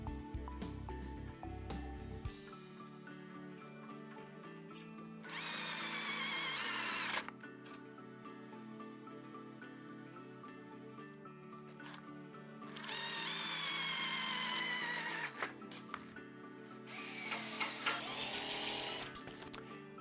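A cordless driver whirs in several bursts while screws are driven into the aluminium side frame of a sliding shower enclosure, close by, with quieter handling sounds between runs.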